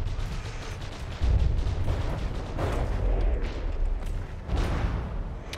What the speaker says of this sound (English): our anti-torpedoes are firing, and we fired our own torpedoes out